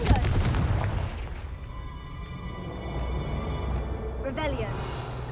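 Hogwarts Legacy gameplay, with the Confringo fire spell going off. A loud burst comes first, then a rumbling, crackling blast that fades into a sustained roar, and a bright magical swoosh follows near the end. A voice speaks over the start.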